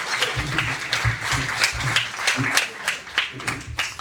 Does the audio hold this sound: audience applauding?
yes